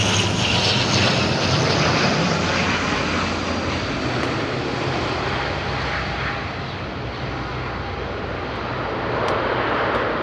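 Binter airplane landing at Madeira Island Airport: a steady, loud engine roar with broad rushing noise, holding constant and close for the whole stretch with no speech.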